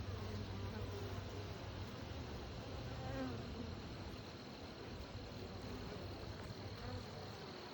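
A dense, steady drone of many honeybees buzzing agitatedly around their hives on a cool day with no smoke, continuous and close throughout.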